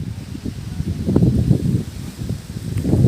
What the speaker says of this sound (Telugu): గాలి కూడా చాలా గట్టిగా అయితే వేస్తుంది